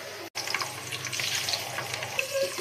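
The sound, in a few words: whole spices and vegetables frying in oil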